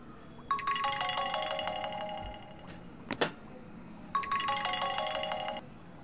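A phone rings for an outgoing call in a Telugu film scene: two identical electronic ring bursts, separated by a pause with a sharp click, moderately loud and clear.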